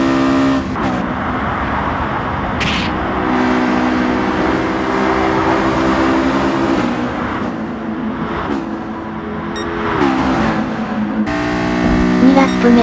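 A racing car's VTEC engine in Gran Turismo Sport revs high and strains through gear changes on the Shuto Expressway course, loud and continuous, with shifting pitch as the car speeds along.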